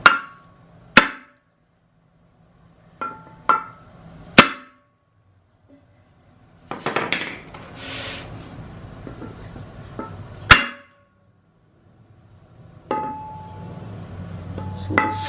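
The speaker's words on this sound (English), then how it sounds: "I'm gonna try to just set a piece of wood on here and hammer it" Sharp hammer blows strike a piece of wood laid on a BMW Style 19 wheel, single ringing knocks and quick pairs separated by pauses, with a stretch of scraping and handling noise in between.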